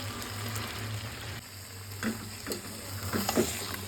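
Chicken fries in a spice masala in a pan with a close, steady sizzle, then a few scraping stirs and spatters toward the end, with no speech.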